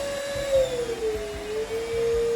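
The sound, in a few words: carpet cleaner running on a rug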